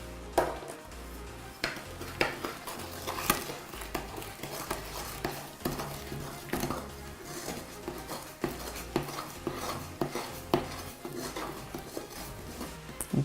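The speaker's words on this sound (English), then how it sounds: "And about half of the milk and mix it together." Donut batter of flour and milk being mixed in a bowl, with repeated scraping, tapping and clinking of a utensil against the bowl in a busy, close rhythm, with no talk.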